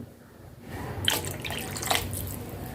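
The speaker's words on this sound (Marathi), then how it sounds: "मी अडीच ग्लास पाणी घालते" Water pours steadily into a pan for sevai upma, a continuous splashing stream that swells after a short quiet start.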